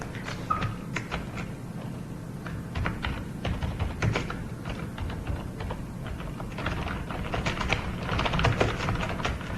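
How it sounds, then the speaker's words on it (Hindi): Rapid, irregular clicks of a computer keyboard as someone types text into Microsoft Word, close and continuous over a low background hum, with no talking. "ये इसमें मैं ज़रा इसी तरह की टाइपिंग कर रहा हूँ"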